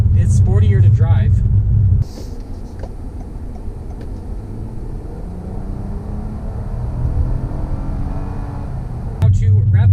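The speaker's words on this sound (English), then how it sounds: "if you want a little bit extra sound from this V6" A 2019 Toyota Camry XSE's V6 engine hums as a low, steady rumble while driving, swelling slightly midway; someone talks over it at the start and end.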